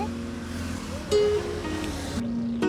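Floodwater after heavy rain in Avadi rushes past in a steady, close, broadband wash, with a faint tonal hum and a couple of brief higher-pitched sounds rising above the flow.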